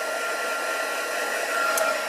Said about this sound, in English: as ever with your heat tool, heat it up before you put it on your embossing